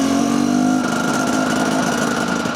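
An enduro motorcycle engine runs steadily on a ride after a rebuild, a loud continuous drone whose pitch shifts slightly partway through, with no voices.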